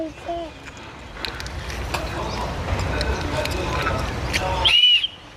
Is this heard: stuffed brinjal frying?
no